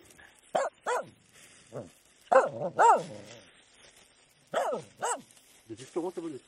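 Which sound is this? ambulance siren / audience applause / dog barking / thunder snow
dog barking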